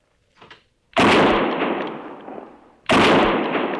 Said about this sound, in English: Yeah, beautiful shot, Willa.